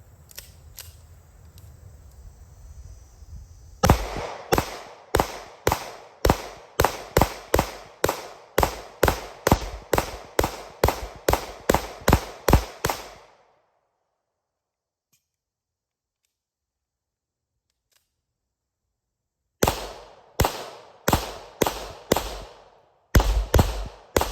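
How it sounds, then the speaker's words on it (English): Springfield 1911 DS Prodigy pistol firing CCI rounds from a 20-round magazine, a rapid string of sharp close shots at a steady pace, then a long pause before a second quick string of shots. "first up I'm gonna be shooting the Springfield mag loaded with the full 20 rounds of the CCI"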